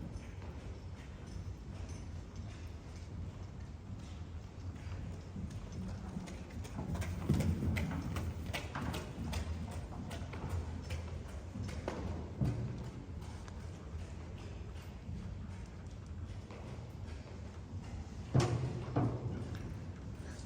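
A horse is ridden with a prototype panel-lock saddle, its hooves clip-clopping in a steady, moderately quiet rhythm, with a few heavier thuds.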